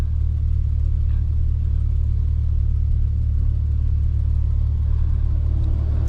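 Engine of a C8 Corvette driven in Sport+ mode, a steady loud low rumble with continuous road roar throughout, no talking.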